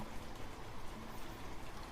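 Steady rain falling, a dense, even hiss of drops that keeps up throughout without pausing, fairly close and moderately loud.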